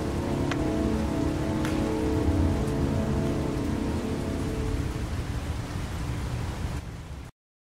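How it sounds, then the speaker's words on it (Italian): Heavy, steady rainfall in the video game Heavy Rain pours across surfaces, a dense, loud hiss with low rumbling underneath and a few sharp drips, continuing until it cuts off abruptly near the end. "Qua piove sempre."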